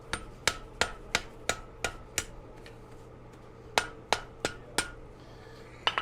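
A hammer strikes a farrier rasp on an anvil as it is forged into a knife, giving sharp metallic blows in two evenly paced runs of about six and five hits, a short pause between them and a few more at the end.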